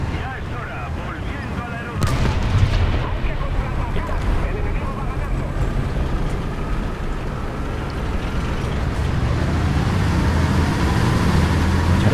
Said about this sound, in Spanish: Sigue disparando a través del humo.